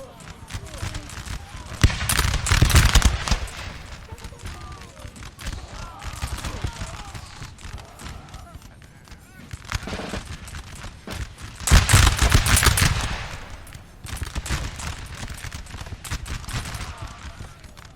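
Musket volleys crackle in a Napoleon: Total War multiplayer battle, a dense rattle of gunfire with two louder surges of massed shots, and a voice talks over them.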